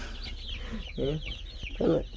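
Chickens cluck in short bursts at a small poultry farm, close and fairly loud, with two prominent clucking calls over a low background.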